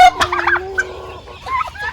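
Domestic chickens in a backyard coop during the rainy season give loud, close calls, with a sharp gobble-like burst near the start and further clucking and squawks through the rest.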